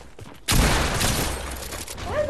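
A sustained burst of gunfire in the Fortnite video game bursts in after a brief quiet lead-in, loud and dense, rattling for nearly two seconds.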